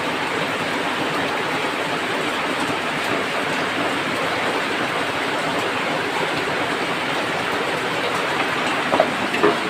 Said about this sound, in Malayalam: ഇവിടെ ഇപ്പം നല്ല മഴയാണ്